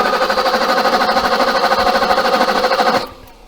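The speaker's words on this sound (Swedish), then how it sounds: "så kommer den att dra startmotorn" A BMW M535i's starter motor cranks the engine in a fast, even whirring chug for about three seconds, loud and close, then cuts off abruptly without the engine catching.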